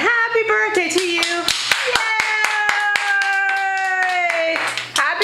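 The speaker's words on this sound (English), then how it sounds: "You gotta clap at the end." Family members clap along at a 40th birthday celebration at home, with sharp separate hand claps beneath a sustained sung note as the birthday song ends, voices carrying over the clapping.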